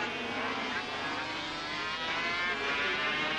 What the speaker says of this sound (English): Roberts on the V4 Yamaha